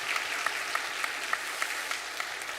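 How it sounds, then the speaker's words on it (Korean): A Sunday worship congregation in a church gives a welcoming round of applause for a newly appointed senior elder, steady and moderately distant, with clap peaks pulsing quickly and no voice over it. "우리 인사할 때 박수로 한번 격려하도록 하겠습니다"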